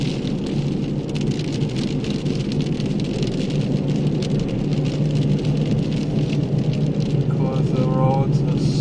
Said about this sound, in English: It is windy out here. And nasty, that weather is not nice.